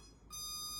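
An RC ERA C180 helicopter's radio transmitter, during binding, emits a steady electronic beep that starts partway through and holds to the end. The beep is faint and sits over low background hum.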